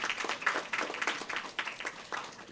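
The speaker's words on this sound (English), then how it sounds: "Give him a round of applause." Audience applause at a primary school spelling bee in St. Lucia, a moderate patter of clapping from the crowd, continuous and fairly close.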